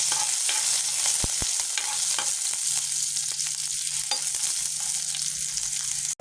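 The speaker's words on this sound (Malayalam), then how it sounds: "കടുകും കൂടി ഉണ്ട് കടുക് പൊട്ടി" Mustard seeds crackle and pop in hot oil for a traditional Kerala leafy-greens curry, a steady loud sizzle dotted with sharp spluttering bursts throughout, with no voices.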